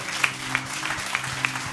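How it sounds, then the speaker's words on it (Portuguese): A church congregation claps in a loose, rhythmic patter, with sharper individual claps standing out at regular intervals over a low room hum. "Aplauda ao Senhor."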